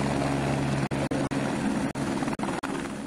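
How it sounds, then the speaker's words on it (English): Kenya Forest Service helicopter, a steady loud rotor and engine drone, interrupted by several brief sharp cuts. "The Kenya Forest Service has acquired a new helicopter"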